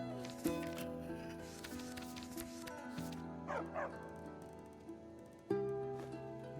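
Dog barking in Skyrim: a few distinct bow-wow barks with a short whimpering yip, set over steady game music, each bark a sharp loud onset near the listener.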